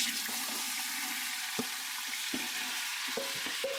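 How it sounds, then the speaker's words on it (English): Celery, green pepper and onion hit a hot pot with browned pork bits, a steady loud sizzle broken by a few sharp spoon scrapes and clanks, brief and close with no talk. "I'm going to deglaze my pot with my Cajun trinity, which is celery, green pepper, and onions."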